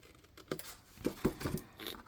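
Scissors snip through paper while cutting out a small square for a scrapbook pocket page, giving a few soft crisp crunching cuts and rustles, close and quiet.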